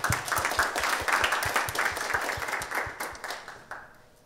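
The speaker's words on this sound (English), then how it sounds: "let's give Sage another round of applause." An audience at a speaker event applauds steadily, dense clapping that fades gradually toward the end without any voices.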